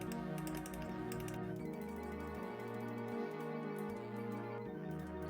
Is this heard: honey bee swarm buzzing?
no